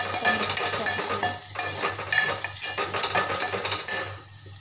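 A spoon stirs chili powder, coriander powder, turmeric and salt into a green bean and potato sabzi in a pan, giving continuous close scraping and clinking with a faint sizzle underneath.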